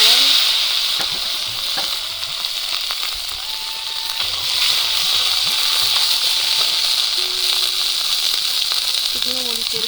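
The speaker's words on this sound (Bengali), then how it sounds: "তরকারি আমার ফুটেছে।" Curry boiling and sizzling in a pan during village-style Bengali cooking, a steady loud hiss of frying that continues throughout with faint clinks of a utensil.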